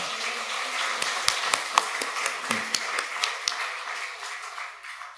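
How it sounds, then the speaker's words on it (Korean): A church congregation claps during a Sunday afternoon worship service, a brief burst of scattered hand claps with distinct sharp hits that thin out and fade toward the end. "한 번 더 우리 박수로 축복하겠습니다."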